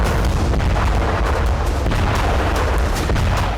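Indian-made indigenous artillery gun firing, a dense, continuous roar of loud booming blasts with no pauses, heard close and alone without any talk.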